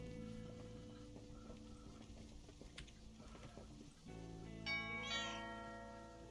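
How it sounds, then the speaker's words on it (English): Several cats meowing in a video game over a steady tonal music bed, with a clearer, louder meow near the end standing out above soft ticking background sounds. "Oh my god, there's so many cats over here."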